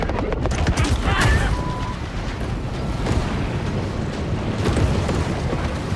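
A bomb explosion mixed with gunfire in the shark video game Maneater: a dense, continuous roar of blasts and crackling shots, loud and sustained throughout.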